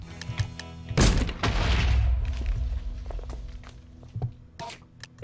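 A bomb goes off in the Minecraft video game, a sudden loud boom that rolls into a long rumbling tail, with footstep-like thuds and a sharper bang near the end.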